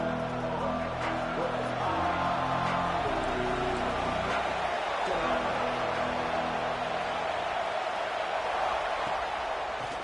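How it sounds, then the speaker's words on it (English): A stadium crowd at a college football game after a score, a steady broad roaring buzz that fills the whole stretch, distant and continuous with no clear voices standing out. "this crowd is buzzing after that last score"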